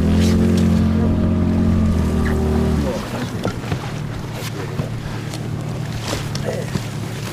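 A Suzuki outboard boat motor on a Siberian taiga river, heard up close as a loud, steady droning hum that shifts lower and rougher partway through, with water and faint voices mixed in.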